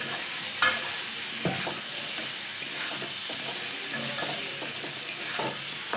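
Potatoes stirred into a frying mixture in a hot pan, a steady broad sizzle with scraping stir strokes and occasional clinks, close and continuous.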